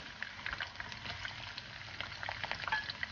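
Onions go into hot oil as the base for a mackerel fish curry, giving a soft, continuous sizzle and bubbling with faint clicks and stirring, heard near and fairly quiet with no speech.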